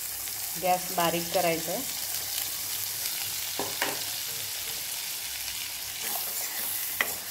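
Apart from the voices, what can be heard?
ground masala frying and being stirred in hot oil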